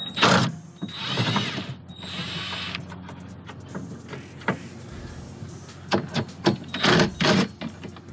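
A ratchet with a 13 mm socket loosens a battery bolt on a 2017 GMC Sierra 2500 Denali Duramax diesel, producing close scraping mechanical rasps and a quick run of sharp clicking bursts near the end.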